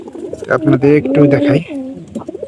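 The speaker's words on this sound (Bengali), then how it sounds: "এই দেখেন সবগুলা কবুতর কিন্তু এক জায়গায় আমাদের।" A flock of pigeons kept together in a shed coos in repeated throaty calls close by, while someone talks over them.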